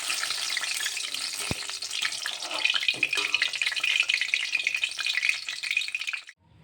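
Drumstick flower fritters (sajne phool bora) frying in hot oil, a steady close crackling sizzle with faint clinks as pieces are lifted out, running continuously and then stopping abruptly.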